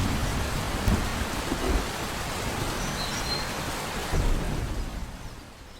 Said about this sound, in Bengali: এই দেখো বৃষ্টি শুরু হয়ে গেল